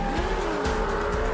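Cartoon race car engines drone loudly and steadily through a close toy-car race, with tires squealing over the continuous roar.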